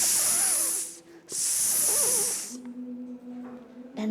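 A voice imitates a snake's hiss with two long, loud, breathy hisses close to the mic, each followed by a brief murmur of voice, and a faint hum under the last part.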